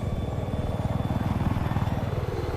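A Viper attack helicopter in Battlefield 4 thrums with a fast, even rotor chop over a steady engine drone, close and continuous through the short stretch.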